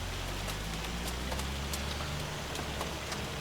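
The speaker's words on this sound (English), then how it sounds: "No, that is actually... This is hail." Hail and rain fall in the Farming Simulator 25 video game as a dense, steady patter of small taps over a soft background hiss.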